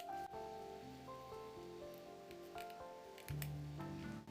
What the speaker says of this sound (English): Use scissors to cut off a few small pieces.